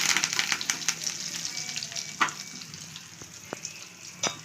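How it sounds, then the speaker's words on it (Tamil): Curry leaves and dried sundakkai vathal sizzle in hot oil for a wedding-style vatha kuzhambu, a soft continuous crackle with occasional sharper pops and a few light utensil clicks, fairly faint and close. "இப்போ நாலு கருவேப்பிலையும் அது கூட போட்டுக்கலாம்"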